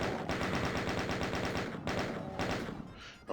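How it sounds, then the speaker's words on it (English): Chain gun in the video game DOOM firing continuous rapid bursts, loud and close, with a brief break near the middle and a pause at the very end; no voices. "we barely used our chain gun, so we're going to really use it here"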